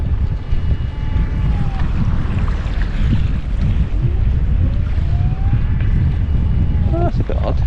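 A boat motor runs on a fishing lake, a steady low drone that continues through the whole stretch, mixed with buffeting wind noise on the microphone.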